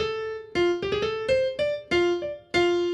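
A blues scale lick played on an instrument, a run of about seven distinct notes in quick succession, with a small pitch roll up into the third, close and clear with no voices.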